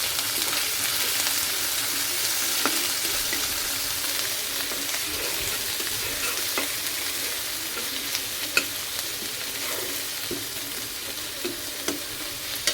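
Onion paste sizzles steadily in a hot pan while cooking a pointed gourd (patal) dish, with a dense, even frying hiss and occasional faint clicks of stirring throughout.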